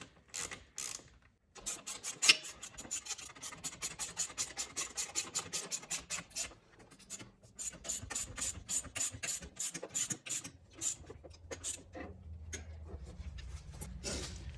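A ratchet wrench clicks in quick rhythmic bursts while tightening rearset bolts on a Honda Grom motorcycle, close but fairly quiet, with short pauses between runs of strokes.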